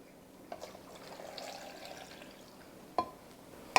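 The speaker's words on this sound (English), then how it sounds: "And I'm gonna put in 2 cups of water." Two cups of water are poured into a cooking pot for rice soup with chicken and vegetables, a soft, quiet trickling splash, followed by a couple of sharp clinks.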